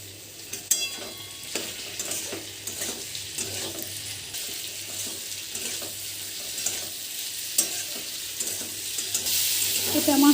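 Pointed gourd chhyachra with fish oil fries over a high gas flame, a constant sizzle broken by repeated spatula stirs and scrapes, close and moderately loud.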